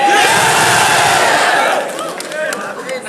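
A rap battle crowd roars, cheers and shouts at full volume, then the noise eases into scattered whoops and calls, loud and close throughout.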